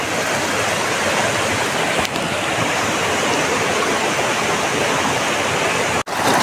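Steady, loud rushing of a river swollen after days of rain, flowing continuously, with a couple of brief clicks.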